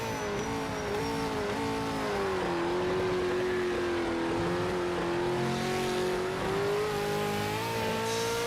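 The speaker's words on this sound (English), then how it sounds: "It is V8 supercar quick. Cruising to 300 kilometre an hour." V8 supercar engine in a racing video game screaming at high revs near 300 km/h, a steady loud drone with slight pitch rises and dips as it holds speed, no talking.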